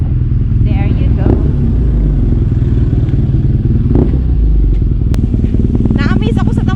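A BMW R NineT motorcycle rumbles with a steady, loud engine and exhaust drone while riding, joined by occasional clatter and a brief rising whine near the end.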